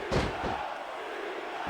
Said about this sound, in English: These superstars are beating the heck out of each other, and this crowd can't get enough of it.